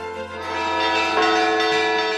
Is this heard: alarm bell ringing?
yes